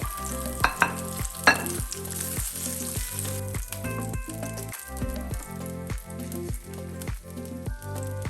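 Salmon frying in oil in a pan, a loud continuous sizzle with rhythmic stirring or scraping knocks roughly every half second throughout, close up and with no talking.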